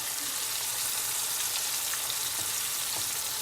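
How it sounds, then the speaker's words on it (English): Sopes frying in a pan of hot oil, giving a steady, dense sizzle with scattered pops and crackles throughout, loud and close with no talking. "Fry them up."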